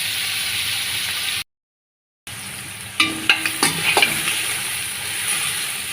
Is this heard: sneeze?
no